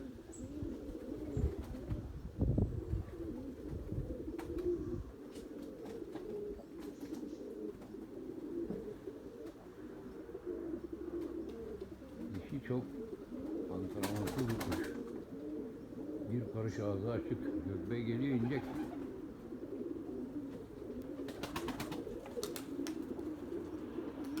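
Pigeons coo around a loft, one of them a white female called Gökbey, on a windy day of mixed flight. Low, steady cooing carries on through the clip with someone talking now and then.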